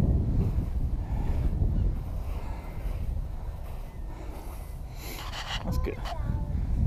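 Strong wind gusting across an open beach at West Bay, rumbling and buffeting close to the microphone, with distant voices and a brief higher call near the end.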